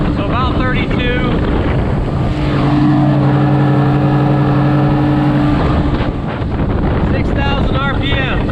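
Tohatsu 30hp outboard motor running flat out at 6,000 RPM on a Gheenoe LT25 boat, a steady loud drone with heavy wind buffeting, the pitch holding level through the middle.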